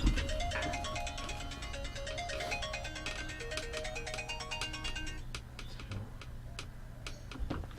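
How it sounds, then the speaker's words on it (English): Melodic mobile phone ringtone repeating a quick tinkling pattern, clear and fairly loud, followed by a few sharp computer keyboard clicks as it stops. "Oh, my phone's ringing."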